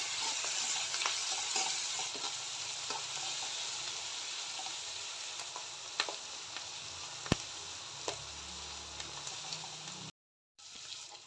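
Ingredients for atukula pulihora sizzle in a pan while being stirred until brown, a quiet, even frying hiss with occasional scraping clicks and taps, close by, ending in a brief cutoff.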